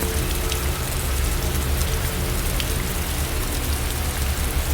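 Heavy rain pours down near a graveyard at night, a dense, loud and unbroken hiss with no voices over it.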